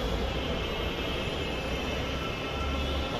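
A Dhaka Metro Rail MRT Line 6 train at night, heard as a continuous, even rumble of rolling rail noise that holds steady throughout, with no voices.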